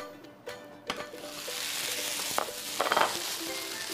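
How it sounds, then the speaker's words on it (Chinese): Lily bulb and lotus root cakes sizzle and fry in oil in a pan, with a steady hiss broken by a few clicks and pops and a louder spattering burst near the end. "咁我哋就煎翻佢得噶啦"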